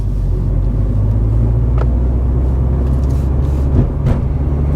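Car pulling away in first gear and rolling over a bridge, a steady low engine rumble close by with faint road noise and a couple of brief clunks, no talking.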